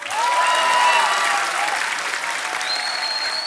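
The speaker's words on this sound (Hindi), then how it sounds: "जोरदार तालियां हो जाए" A studio audience at a comedy show's mushaira segment applauds loudly and steadily, a dense wash of clapping that holds for several seconds, with faint tonal music threading through.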